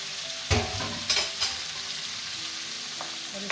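Brain masala sizzles steadily in a hot pan, with a few sharp scraping clanks as it is lifted and stirred, close and fairly quiet.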